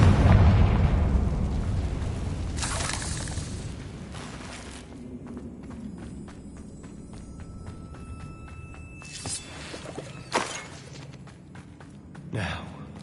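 A Confringo blast spell explodes in Hogwarts Legacy, a loud burst opening the scene that decays into rumble, followed by a few sharper pops and impacts later on.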